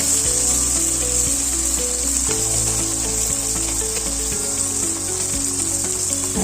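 Two chopped tomatoes sizzling steadily in hot oil in a pan for a light rohu fish curry with drumsticks, a loud continuous frying hiss with occasional stirring.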